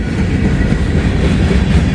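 A train rolls past on railroad tracks, loud and close, a continuous low rumble with rattling wheels that stays steady the whole time.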